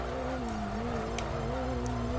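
In the racing game Kaido Racer 2, a car drifts under handbrake with a sustained, wavering tire squeal over engine drone, faint and continuous.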